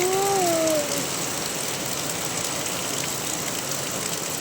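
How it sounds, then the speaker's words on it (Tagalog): Steady, dense heavy rain during a storm with strong wind fills the whole stretch at an even level, with a brief tonal whine fading out near the start. "Grabe lakas ng ulan."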